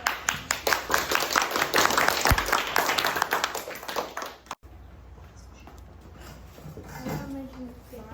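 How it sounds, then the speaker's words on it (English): Audience applause at a day of how-to demonstrations, a burst of dense clapping for about four seconds that stops abruptly, followed by a quiet room with faint voices. "Round of applause."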